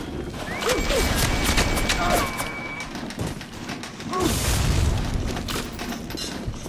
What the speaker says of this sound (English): Watch out, these guys have bombs.